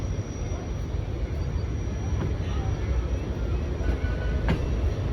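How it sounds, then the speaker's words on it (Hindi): The Awam Express moves off from Drigh Road station in Karachi, a constant heavy rolling rumble with a few faint clicks and a thin high whine running through it. "रवाना भी हो गई है ट्रेन"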